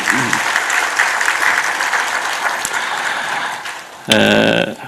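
A church congregation claps steadily for several seconds during a Sunday service, the applause easing slightly before a brief burst of voices or music at the end.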